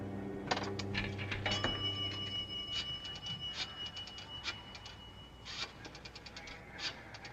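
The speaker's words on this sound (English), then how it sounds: "To get it, Sheila dropped a nickel in the slot." Nickel dropped into a payphone coin slot in a 1950 film noir, a run of small metallic clinks and ticks rattling through the phone mechanism, faint over a quiet room hum.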